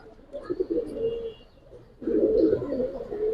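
Giribaz highflyer pigeons coo nearby in low, throaty bursts, one phrase and then a louder, fuller round after a short pause.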